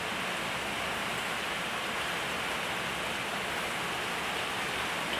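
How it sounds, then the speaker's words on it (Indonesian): Steady afternoon drizzle falls around a village house, a dense, even hiss that holds at the same level from start to end with no voices. "di sore hari gerimis terus"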